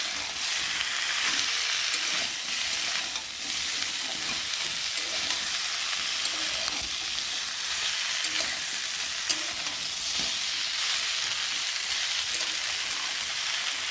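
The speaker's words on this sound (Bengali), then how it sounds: "এই ঝিঙেটা একটু ভালো করে মশলার সাথে ভেজে নেবো" Ridge gourd frying with spices in a pan gives a steady, dense sizzle with scraping stir strokes throughout, close and fairly loud, with no talking.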